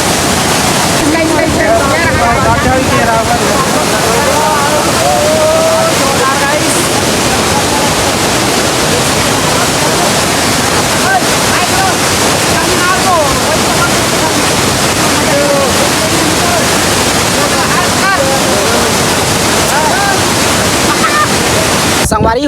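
At Ulta Pani in Mainpat, Chhattisgarh, flowing water roars as a loud, continuous broadband rush, like a waterfall, while a person talks over it.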